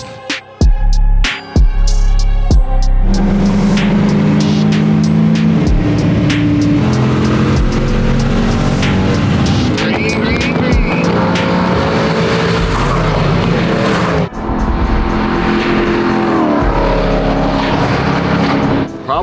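Mitsubishi Eclipse race car running hard laps on a track, with a loud, sustained engine drone and shifting pitch throughout, interrupted by a few sharp bursts early on.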